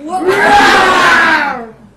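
Storytelling-festival audience in Tizi Ouzou roaring together in imitation of a lion, a loud group vocal swell lasting about two seconds and fading out at the end.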